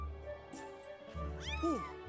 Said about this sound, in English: Let's get the kitty.